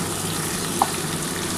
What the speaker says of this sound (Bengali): আমার পেঁয়াজটা কিন্তু মোটামুটি একটু ভাজা হয়ে এসছে